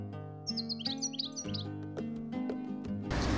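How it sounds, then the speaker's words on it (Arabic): Goldfinch in a bird and fish seller's shop in Algeria, singing close and clear: rapid bright twittering chirps and warbled phrases over a steady low hum, with a brief noisy burst at the end. "طائر الحسون مما معروف عند"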